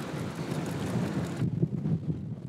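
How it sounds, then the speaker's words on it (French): Strong wind rushes against the microphone in a broad roar across open plains in Brazil, then eases partway through into a lower, gusty rumble. "il y a un vent assez important depuis ce matin"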